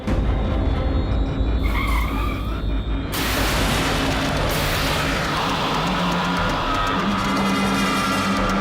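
A car brakes hard to a stop with loud, sustained tire skidding and a roaring, noisy rush that fills the scene, close and intense.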